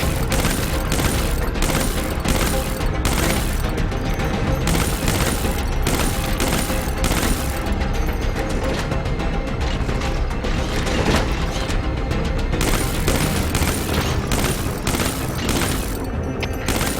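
Mortar strike explosions in Metal Gear Solid V: The Phantom Pain, a loud, dense, continuous barrage of booms and crashing blasts that rolls on without pause.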